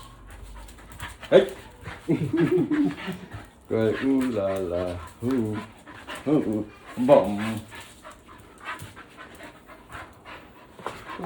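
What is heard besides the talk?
dog panting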